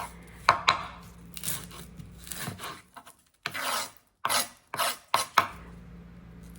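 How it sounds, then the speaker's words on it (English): Papery skin being peeled and torn off half a big red onion, a series of short dry rasping rubs and crackly tears, close and loud, separated by quiet gaps, with no talking. "Peel the skin out."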